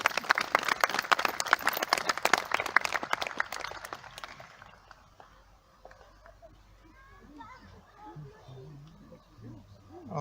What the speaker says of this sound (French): On applaudit Félicie et Augusto.